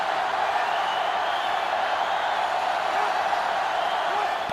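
A stadium crowd in the college football video game NCAA 2005 roars loudly and steadily, a dense wash of cheering that holds at a constant level throughout.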